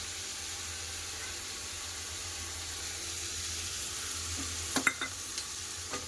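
Potato and ridge gourd sautéing with poppy seed paste in a pan, a low steady sizzle that stays faint until a few sharp spoon clinks and scrapes near the end, no talk.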